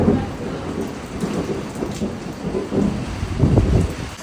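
Heavy rain drums down in a thunderstorm, a continuous wash of drops on surfaces under low, rolling thunder rumbles that swell toward the end, with no speech.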